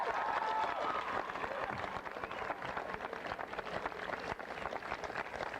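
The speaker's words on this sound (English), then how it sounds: "May we have a round of applause for all of the parents and guardians who are here tonight to celebrate" Audience applause at a 1998 high school graduation ceremony, a continuous wash of many hands clapping, fairly distant and muted, holding steady throughout.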